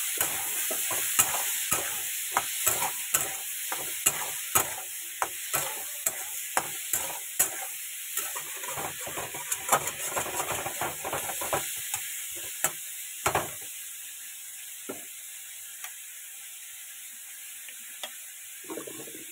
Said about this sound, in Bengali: দিয়ে দিচ্ছি হলুদ, ভালো করে আগে ভেজে নেব।